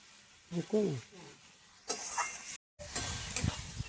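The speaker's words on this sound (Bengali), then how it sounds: "ভালো করে একটু মশলাটা কষিয়ে নেব।" Spice paste (masala) for paneer maharani sizzles while it is stirred in a pan. A voice talks over the start, then a steady frying hiss with stirring scrapes carries on after a brief silent break.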